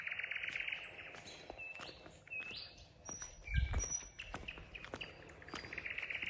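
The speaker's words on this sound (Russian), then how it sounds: "Благодать. Птички поют." Several small birds sing and chirp outdoors at sunset in a countryside setting, bright repeated tweets and trills at moderate distance over a quiet background, with a brief low rustle or footstep midway.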